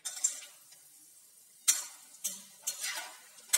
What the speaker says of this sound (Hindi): फिर हम इसे फ्राई करेंगे।